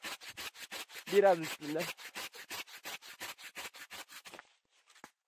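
Rhythmic back-and-forth strokes of a hand saw cutting through a walnut branch, steady and close, with a brief spoken phrase in Turkish partway through before the sawing stops.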